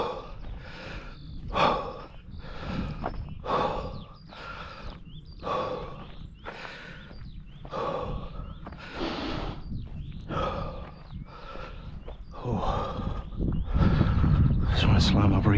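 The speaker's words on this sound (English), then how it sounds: "Just want to slow my breathing down slightly. Nice deep breaths." Heavy breathing from a runner after running: deep, rhythmic breaths with loud inhales and exhales repeat steadily and close up, with rustling toward the end.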